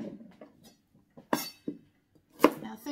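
Knife chopping carrot sticks into cooking-sized pieces on a board, a few separate crisp cuts spaced irregularly, close and fairly quiet, with soft handling noises between strokes.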